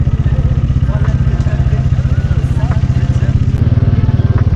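A motorbike with a modified exhaust idles loud and close at a petrol pump, its engine thumping in a fast, even rhythm throughout, while faint background activity sits behind it.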